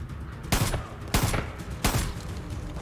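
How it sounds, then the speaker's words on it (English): A scoped shotgun firing in Far Cry 5, three loud, close blasts spaced about half a second to a second apart, each with a sharp crack and short rumbling tail, and no talking. "Even though it's a shotgun with a scope on it."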